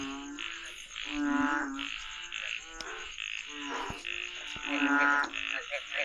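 Frogs croaking loudly in a dense chorus on a mountainside after heavy rain, pulsing rhythmic calls overlapping continuously with a steady high insect drone behind.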